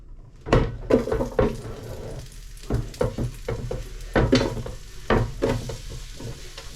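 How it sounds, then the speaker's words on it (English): Onions go into a hot pan and sizzle while being stirred, the frying hiss broken by irregular scraping and clattering strokes of a utensil against the pan, close by. "Nice sizzle"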